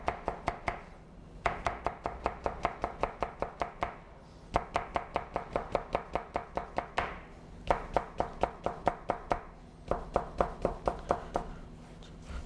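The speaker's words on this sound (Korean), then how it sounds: "이렇게 겹쳐서 다시 한번 이렇게 당겨 썰기를 해주시면" Knife pull-slicing stacked food on a cutting board, in Western cooking practice, rapid even runs of crisp taps in several bursts with short pauses between, close and clear.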